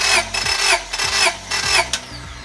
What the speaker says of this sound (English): Before you crank the engine, make sure that you step on the gas pedal all the way down